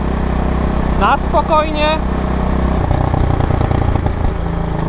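A Loncin 110/125 motorcycle engine runs steadily while being ridden off-road near a forest, a loud continuous low drone with a slightly muffled exhaust, as someone speaks briefly over it.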